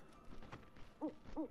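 Soft owl-like hoots sound in Final Fantasy VII Rebirth, two short hoots about a third of a second apart, faint and in the distance over a low, quiet background.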